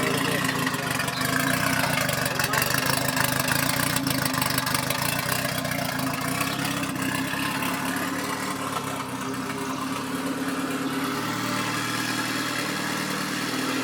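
A Honda Civic with a K20 engine runs at a steady idle, a loud, continuous engine drone that stays even throughout with no break.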